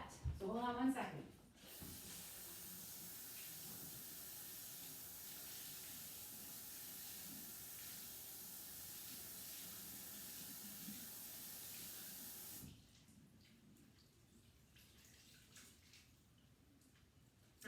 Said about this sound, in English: I got my dusting mitt wet. So you see that, like put it under the water, got it soaking wet